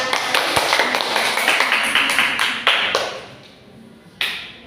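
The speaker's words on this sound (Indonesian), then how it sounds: "Kita tepuk tangan semuanya." A small group claps hands during a classroom geometry lesson, a quick run of close, crisp claps that thins out and fades, ending with one last sharp clap.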